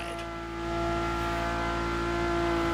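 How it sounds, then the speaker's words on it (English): Interior view of a car's engine in the racing game The Crew Motorfest, a steady droning hum that swells slightly as the revs climb, heard alone and fairly loud. "And the car's voice sounds even better from inside."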